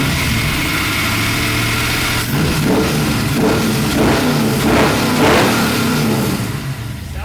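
A 400 hp V8 swapped into a merch van catches in a shop and settles into a rough, loud idle, with several throaty revs rising and falling in its middle stretch before easing back down.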